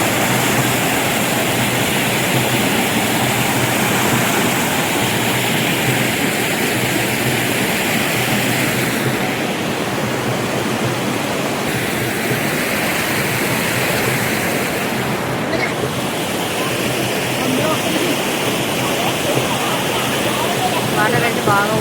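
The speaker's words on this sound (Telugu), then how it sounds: "వాటర్ అయితే బాగా ఊరుతుంది." Spring water wells up and flows strongly near a coffee factory at Chaprai, making a loud, unbroken rushing hiss that fills the whole stretch at close range.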